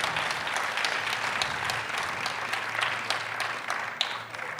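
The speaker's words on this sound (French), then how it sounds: "Vous pouvez les applaudir" An audience at a French ecology festival panel applauds the three speakers, steady dense clapping throughout with a faint low hum underneath, fading slightly at the end.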